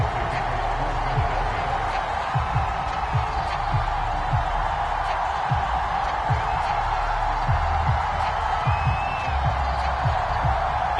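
Stadium crowd in an EA Sports NFL football game, Philadelphia Eagles matchup, a steady broad roar of many voices with scattered whoops and claps, sustained and even throughout.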